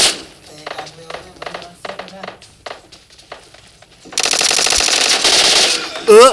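Video game gunfire: sparse single shots, then a loud sustained automatic burst near the end, with voices talking over the action.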